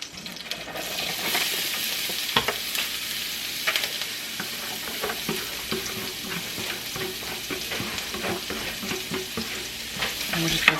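Onions fry in a pan of olive oil and butter over medium heat, a constant close sizzle broken by repeated scraping and clinking as they are stirred, with no talking.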